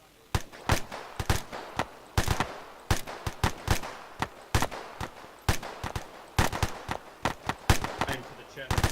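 Repeated rifle shots crack out on an Arma 3 firing range, sharp reports coming in an uneven rhythm of single shots and quick pairs, fairly close and loud with no pause.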